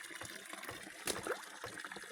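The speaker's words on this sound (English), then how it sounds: "at the moment it's overflowing because the water's coming in fair" Water overflowing from a farm catchment ring after heavy rain, a steady close trickling and gushing wash with a brief louder splash midway, no talking.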